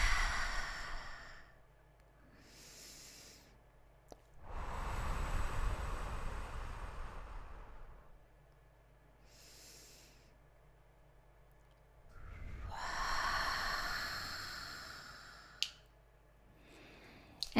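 Slow, deep breathing during a guided breathing exercise with feet planted on the ground: long airy inhales and exhales, alternating with quiet pauses, close and soft, with no talking over them.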